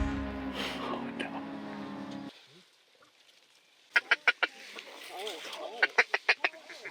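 Ducks on a Manitoba duck hunt with seagulls mixed in: talk and a sustained tone first, a quiet gap, then a run of sharp quacking calls from birds coming in.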